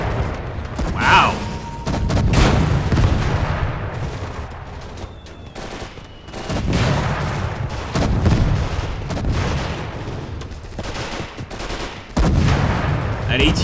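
Heavy WWII Eastern Front battle in Call to Arms – Gates of Hell, with an anti-tank gun firing deep booming shots amid rattling machine-gun bursts and explosions, loud and near, in repeated salvos.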